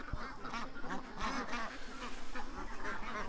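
Ducks quacking close by in a busy, overlapping chorus at night, with repeated honking calls layered over a steady low background hum.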